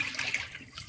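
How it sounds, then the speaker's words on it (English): Water poured off washed rice in a cooking pot, a steady splashing trickle running for about a second, fairly close, with no talking. "pour off the water to about"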